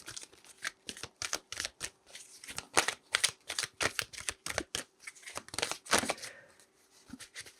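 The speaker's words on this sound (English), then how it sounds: "Let's pull an affirmation card for Pisces." A deck of tarot cards is shuffled for several seconds in quick, crisp riffling bursts, close and fairly quiet, with no voices.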